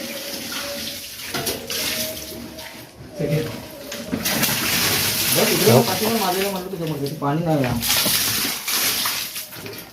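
Water gushes steadily from a broken tap as a full water tank is drained at a house under construction. A continuous close splashing rush runs throughout, with a voice talking over it partway.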